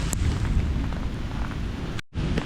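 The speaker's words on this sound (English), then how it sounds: "the rain is definitely coming back." Outdoors on a hillside, rain falls as a dense, steady rush of noise with no voices, breaking off for a brief moment near the end before it resumes.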